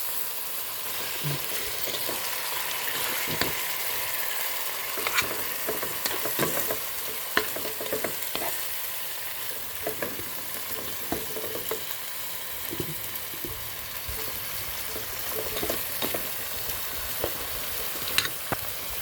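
Ground chicken frying in a pan, a steady bright sizzle running throughout with scattered scrapes and taps of stirring, fairly close and alone without voices.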